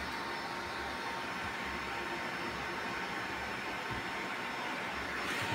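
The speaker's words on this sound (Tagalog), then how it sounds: "Ngayon hindi ko muna agad papatayin yung blower kasi sobrang init talaga oh." Blower on a homemade double-chamber waste-oil burner stove runs steadily, a loud constant rushing roar with a faint tonal whine, close by and without pause.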